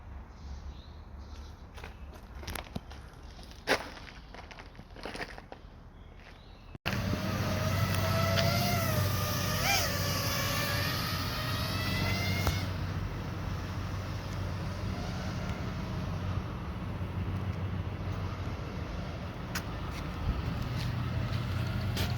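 A drone flying overhead near a hospital building: a steady mechanical whir with rising and falling rotor tones that starts abruptly and stays loud and continuous over outdoor background noise.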